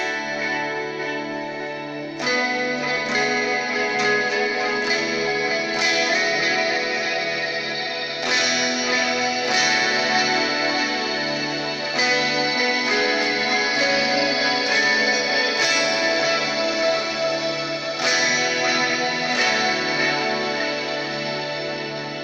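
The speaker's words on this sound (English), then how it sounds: "I've got this one on the flanged reverb with all the shimmer in there" Electric guitar through a flanged shimmer reverb pedal playing sustained chords drenched in swirling, shimmering reverb, with notes blooming and washing into each other at a steady, full volume.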